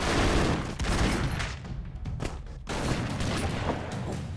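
Leg gun blasting in the video game Broforce, a loud, dense fusillade of rapid gunfire and booms with a brief lull in the middle before the shooting resumes.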